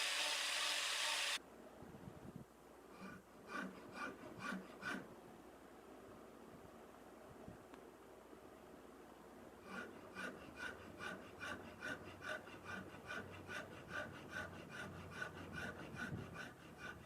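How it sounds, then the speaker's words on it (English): Hand files smoothing the carved wooden body of a custom guitar, rhythmic rasping strokes in repeated bursts, close and fairly quiet, after a brief louder noise at the start. "going in with some hand files to smooth it out a bit"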